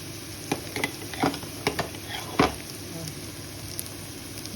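Garlic paste hits golden fried onions in a hot pan, bringing a steady close sizzle punctuated by several sharp spoon clinks and scrapes as it is stirred.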